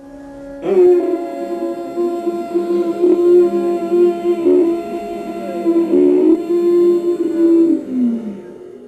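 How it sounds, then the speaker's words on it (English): A slow, drawn-out Ujjayi pranayama breath rasps through a tightened throat, producing a soft, hollow hissing tone that rises and falls steadily. "when you would be tightening your throat while taking in your breath, there will be a kind of sound"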